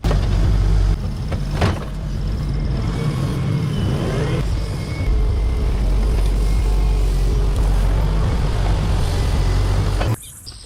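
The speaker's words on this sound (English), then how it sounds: "I started the house construction by operating a powerful Volvo excavator to level the entire building" A powerful Volvo excavator levels a house building site, its diesel engine rumbling steadily for about ten seconds with shifting mechanical noise and a few clanks, then cutting off near the end.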